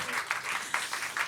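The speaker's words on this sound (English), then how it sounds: "It's okay to clap." A small live-music audience in a bar gives brief, light clapping, heard as a short, fairly close patter of hand claps with a faint murmur underneath.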